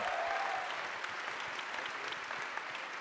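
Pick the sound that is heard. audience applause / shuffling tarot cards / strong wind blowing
audience applause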